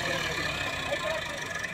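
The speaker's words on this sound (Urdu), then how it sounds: "چلو جی ٹریکٹر نکل گیا" A tractor engine idles steadily after being pulled free from where it was stuck with a crane's help, a continuous mid-pitched rumble running close and even throughout, with voices faintly present underneath.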